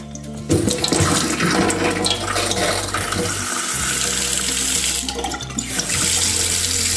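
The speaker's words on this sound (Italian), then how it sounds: "Andiamo ad aprire l'acqua" Water gushes from a newly installed kitchen sink mixer faucet, a loud steady rushing stream that starts abruptly, briefly dips midway, then surges again, with no talking.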